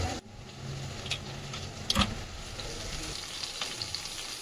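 Shola kochu and prawns sizzle steadily in hot oil in a home kitchen, a soft continuous frying hiss with occasional crackles and a brief stir clatter.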